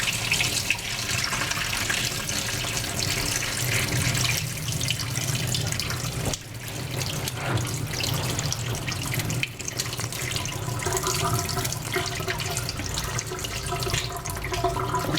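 Steady rush of water from an apple pie's water bath draining through a strainer into a sink, continuous and fairly loud, with a couple of brief shifts in the flow.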